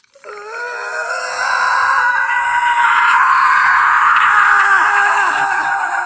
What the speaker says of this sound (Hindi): फोन के स्पीकर से एक बहुत तेज चीख निकलती है।